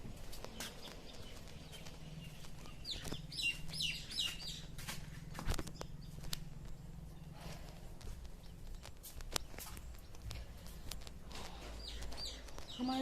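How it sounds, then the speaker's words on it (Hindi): Small birds chirp in a mango tree just behind a room, faint, scattered tweets and calls in the background amid soft household noise, with no talking. "हमारे यहाँ चिड़ियों की आवाज़ इतनी आती है ना, क्योंकि हमारे पीछे जस्ट कमरे के पीछे पेड़ है ना आम का"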